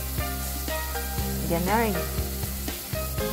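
Garlic, onion and chili sizzle in a frying pan, a close, continuous hiss with small crackling bursts, while a voice briefly speaks a single word over the frying.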